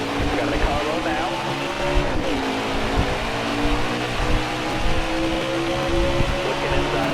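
Race car engines roar and rev at a restart in the NASCAR Heat 4 video game at Atlanta, a steady loud drone with layered engine tones and small bumps, while a voice talks over it.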